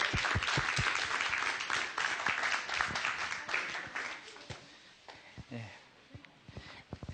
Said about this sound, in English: let's really applaud him as we welcome him back again